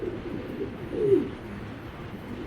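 A pigeon coos once, soft and brief, amid low background murmur at a pigeon farm in Bangladesh.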